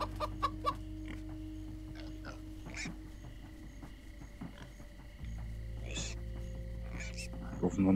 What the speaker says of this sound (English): ist die Evil Chicken oder was?